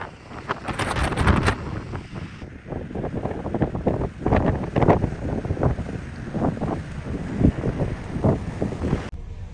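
Strong, continuous wind buffeting the microphone on the deck of a Stena Line ferry on the Irish Sea near Belfast, gusting and roaring steadily with a hiss of sea and engine beneath.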